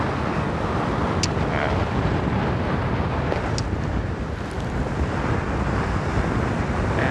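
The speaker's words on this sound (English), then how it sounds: "So pretty dramatic atmosphere here with this cold wind. It's blowing" Cold west wind blowing across a glacial mountain peak near a volcano, a loud steady roar that buffets the microphone throughout with no let-up.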